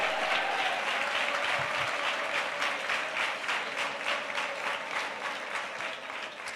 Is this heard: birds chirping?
no